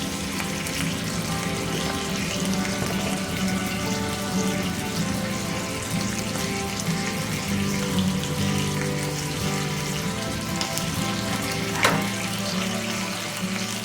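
A wood stove in an off-grid cabin roaring with the damper fully open: a dense, continuous rushing and crackling fire noise, steady and fairly loud throughout, with a faint brief pop near the end and no talking.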